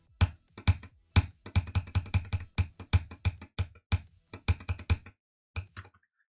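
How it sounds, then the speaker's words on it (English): Hard, sharp clicks on a mouse or key during Geometry Dash play, a rapid irregular series of close, loud taps in bursts with short pauses, ending after a few final clicks. "it sounds like you're clicking really hard"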